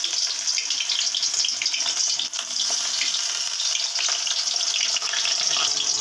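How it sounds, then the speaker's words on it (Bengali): Stuffed pointed gourd (kakrol) fries in hot oil, a loud, continuous bright sizzle with small crackles throughout and no voices. "এবার আমি তেলটা গরম হয়ে গেছে, আস্তে আস্তে করে এগুলোকে দিয়ে দিচ্ছি।"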